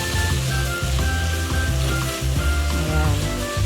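Bell pepper fries in a pan with a close, loud, continuous sizzle while it is stirred, with a faint steady tone running underneath and no talking.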